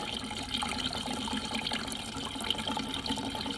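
Water pours steadily from a disconnected pipe into a bucket, a continuous close hissing splash of even loudness with no voices.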